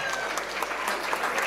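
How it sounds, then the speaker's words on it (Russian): Wedding guests in Stavropol applaud clarinetist Alexander Bagdasarov, a brief, even patter of many hands clapping at moderate volume, steady from start to finish. "Ваши аплодисменты, дорогие друзья!"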